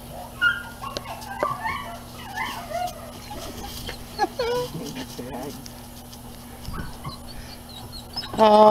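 A Dutch Shepherd puppy whimpers in soft, high whines with a few sharp yips, fairly near, with quiet voices and room noise around it.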